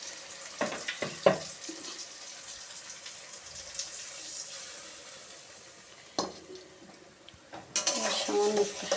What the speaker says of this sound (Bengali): বাটিটা ধুয়ে একটু জল দেবো।